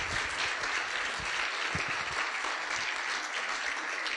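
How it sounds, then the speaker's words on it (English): A church congregation claps steadily during a worship service, a dense, even round of applause from many hands that carries on alone for several seconds without fading. "So, once again, another round of applause for Counselor Jack."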